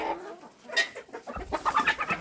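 Young chickens cluck and scratch through a manure heap nearby, a scattered mix of soft clucks and scuffing that grows busier toward the end.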